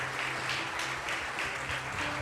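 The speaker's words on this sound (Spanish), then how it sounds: "¿por qué no le damos un fuerte aplauso al Señor?" A church congregation gives a short, steady round of applause for the Lord, dense clapping that stays even throughout, with no voices over it.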